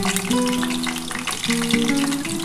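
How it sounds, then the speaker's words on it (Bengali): Chicken pakoras deep frying in hot oil, giving a steady loud bubbling sizzle that runs throughout, with a few faint tonal background hums and no voices. "দেখো খুব ভালো করে ভেজে নিয়েছি।"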